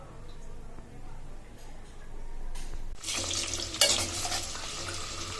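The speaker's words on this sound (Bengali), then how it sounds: "পেঁয়াজের ব্যবস্থা করার জন্য আমি আগে পেঁয়াজগুলো তেলে ভেজে নিচ্ছি" Sliced onions hit hot oil in a pan for beef korma, starting a loud broad hiss that swells and keeps sizzling steadily.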